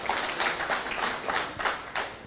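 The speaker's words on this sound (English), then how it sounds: "One applause, please." Audience applause at a blockchain law conference in Panama, fairly faint clapping that comes in rhythmic, pulsing bursts, as if from a smaller group, for a couple of seconds.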